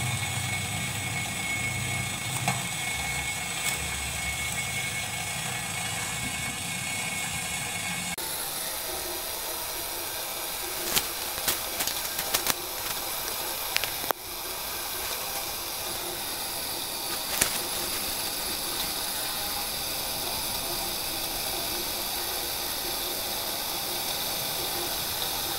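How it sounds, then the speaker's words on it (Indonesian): Kettle heating on a Modena BE 1325 electric stove, with a steady broadband hiss and rumble that shifts partway through, plus a few brief clicks and ticks, close and continuous with no talk. "Ada udara yang mulai bergerak keluar dari air sehingga tekonya berbunyi."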